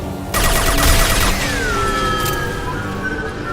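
Gunfire from the video game Mass Effect 2: a dense burst of shots with a sharp onset, followed by a rising whine, loud and up close, with no talking.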